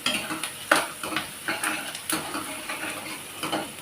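Onions frying and being stirred in a pan for a pumpkin dish, with repeated scraping clinks of a spoon against metal over a steady close sizzle, no voices.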